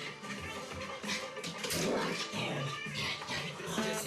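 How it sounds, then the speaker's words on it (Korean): A dog reacts to a TV commercial it dislikes, barking harshly and agitatedly over a busy, loud background of television sound, with dense overlapping noise throughout. "TV를 향해 달려들고 심하게 짖으며 주변을 빙빙 도는 행동을 반복한다는데요"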